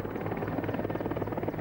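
A Mi-24 Hind military helicopter drones steadily with a loud, continuous rotor and engine roar, close and unbroken, with no voices.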